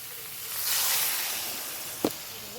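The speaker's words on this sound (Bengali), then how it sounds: "এবার এর ভিতরে আমি জল দিয়ে দেবো" Water poured into a hot pan of soybean curry sets off a broad hiss that swells, holds for about a second and slowly fades, with a short sharp clink near the end.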